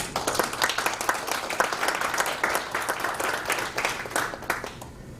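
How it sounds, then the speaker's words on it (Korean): A seated audience at a Constitution Day special lecture claps steadily for about five seconds, a dense patter of many hands that fades slightly toward the end, with no talking over it. "특별히 미국을 대표해서 플로리다에서 오마영 회장께서 이렇게 이번에 오셨는데 제일 멀리서 왔으니까 한번 박수 한번 해주십시오."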